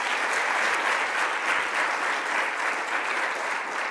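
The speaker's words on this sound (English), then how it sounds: "so let's give them a round of applause." Audience at a governor's press announcement applauds in a dense, even, sustained burst of clapping, loud and close throughout.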